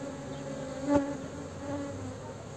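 Honey bees of a calm strain buzz softly around an opened hive, a faint steady hum with a brief louder pass near the start.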